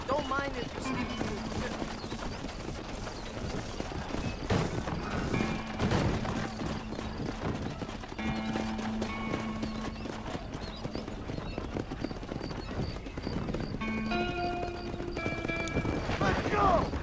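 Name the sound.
horse-drawn wagon clip-clop in video game Red Dead Redemption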